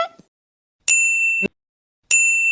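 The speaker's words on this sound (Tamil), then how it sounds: "இங்க யாரோ பெல் அடிக்கறாங்க" A doorbell in an animated series rings twice, each a loud, clear electronic ding that holds for about half a second, separated by silence.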